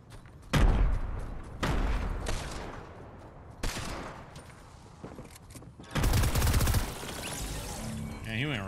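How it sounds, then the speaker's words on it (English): Fortnite grenades burst in heavy explosive blasts mixed with rapid gunfire, several loud booms and rattling volleys coming in waves with quieter gaps between them. "I'm throwing grenades."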